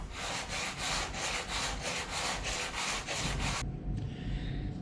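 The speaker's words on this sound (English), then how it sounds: "now sand it down and clean it up." A guitar fretboard inlay being sanded down by hand, rapid rhythmic back-and-forth rasping strokes, close and steady, then stopping into a quieter rub near the end.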